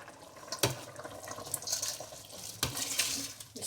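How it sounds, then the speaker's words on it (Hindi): Rice tipped into a pot of water for chicken biryani, giving splashy, sloshing water sounds with a couple of sharp clattering hits, close and fairly quiet, with no talking. "हमने चावल डाल दिए हैं"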